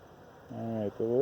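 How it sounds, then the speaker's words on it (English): Bees buzz close by at an open beehive during an inspection, a loud droning hum that starts and swells in two short bursts. "The bees keep running over."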